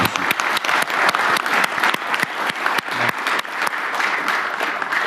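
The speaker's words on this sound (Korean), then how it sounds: "우리 참여해 주신 분들한테 감사의 박수를 한번." Applause at a cabinet meeting, steady dense clapping from many hands that holds at full strength for several seconds.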